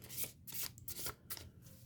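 Tarot cards are shuffled up close in quick riffling bursts, papery flutters repeating a few times, soft and crisp.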